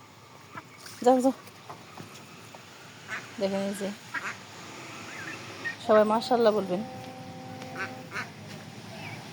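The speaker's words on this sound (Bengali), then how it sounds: "এদিকে দেখেন এই যে আমার হাঁসের বাচ্চাগুলো" Ducklings kept at home quack in short bursts, nearby and loud, with a cluster of rapid calls later on, while a person talks over and between them.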